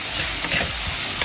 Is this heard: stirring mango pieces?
yes